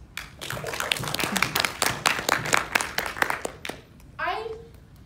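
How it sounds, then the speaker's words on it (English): Members of a Toastmasters audience clap for themselves during a talk. Brisk, fairly close applause runs for about four seconds, then gives way to a voice speaking. "Give yourself a big round of applause."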